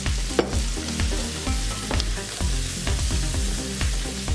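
Zucchini and squash sautéing in a pan with toasted sesame oil: a steady, close sizzle and crackle with repeated clanks and scrapes of stirring, no voices.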